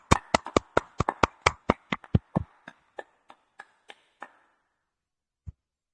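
Clapping from a small group cheering the PVC Meta system, a quick burst of about a dozen sharp claps that slows and thins out, then one last isolated clap after a pause.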